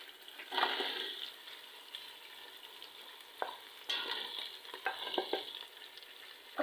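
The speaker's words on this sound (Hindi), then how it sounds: "अब 2 से 3 मिनट हम इस चिकन को भूनेंगे" Chicken sizzles and crackles in a pan with garlic and green chilies, with intermittent stirring scrapes, fairly quiet and close, with no talking.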